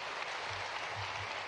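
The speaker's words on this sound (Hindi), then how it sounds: "ताली वाली बजा दो" An audience claps steadily in an indoor auditorium hall during a government function in Bhopal, a dense and even wash of many hands that lasts the whole moment with no voices.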